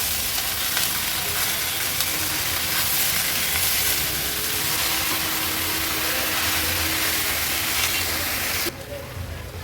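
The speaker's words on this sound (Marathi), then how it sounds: "भाजी मसाल्यात व्यवस्थित आपण ही परतून घेतली आहे" Mixed vegetables with potatoes sauté in a spice masala in a pan, making a loud, continuous sizzle and hiss with faint stirring. The sound cuts out abruptly near the end.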